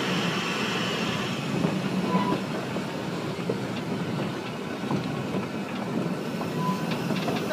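A narrow gauge diesel train rolls steadily along with continuous rumbling and rhythmic clickety-clack of wheels on the rails, close by and fairly loud throughout.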